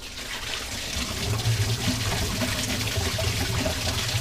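Coolant drains in a steady rushing trickle from the radiator of an Isuzu chipper truck. The flow swells slightly after the first second, then continues as a constant close splashing with no voices.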